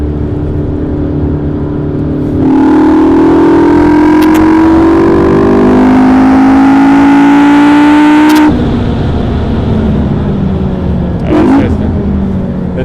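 McLaren MP4-12C sports car accelerating hard, its engine note rising loudly through the gears for several seconds and then dropping away into a lower rumble with a brief sharp noise near the end.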